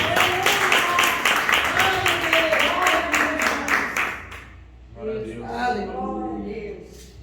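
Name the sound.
church congregation clapping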